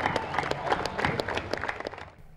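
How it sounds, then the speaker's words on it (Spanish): Audience applause for volunteers at a park event in San Nicolás, Aruba, a brief burst of many hands clapping with some crowd noise, fading out at the end. "vou tornar um aplauso muito forte para todos os voluntários"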